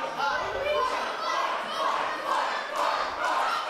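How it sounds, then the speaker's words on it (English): Impatient crowd at a British UKPW professional wrestling match, Rita Slayworth vs Ronnie Knocks, shouting and chanting in steady swelling waves, dense and sustained with no single voice standing out. "Crowd are getting very impatient here with Rita Slayworth"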